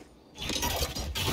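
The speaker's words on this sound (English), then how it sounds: "Flashbang!" A flashbang goes off in a Valorant match: a quiet start, then a sudden bright burst at about a third of a second that holds as a loud, sustained ringing hiss to the end.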